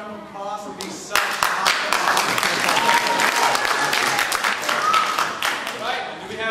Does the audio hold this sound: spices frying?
no